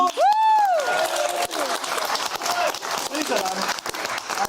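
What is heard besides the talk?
studio audience applause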